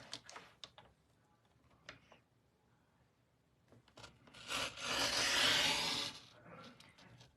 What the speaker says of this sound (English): And I'm going to cut another slit.